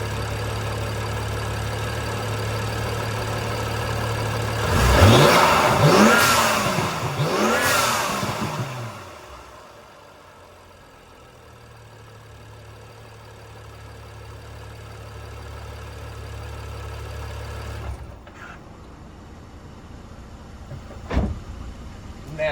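A BMW N55 engine fitted with a Turbo Smart VR9 dual port blow-off valve revs loudly in a few quick rising blips, then settles to a low idle hum before a short click near the end.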